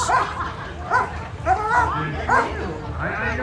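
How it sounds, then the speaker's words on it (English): A police service dog barks in repeated sharp bursts close by during an apprehension demonstration at a Calgary Police public event, mixed with whines and yelps, with people talking loudly over it. "This is Police Service Dog Quick doing an apprehension for us, demonstrating how strong this dog is."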